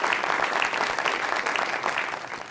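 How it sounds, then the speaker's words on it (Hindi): A studio audience at a New Year show gives loud, sustained applause for a Bollywood star, with many hands clapping steadily and evenly before tapering slightly at the end. "के लिए जोरदार तालियां"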